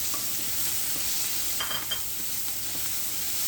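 Diced onion sizzles in hot oil as it is stirred in a pan, a steady close frying hiss with a few brief scrapes of stirring.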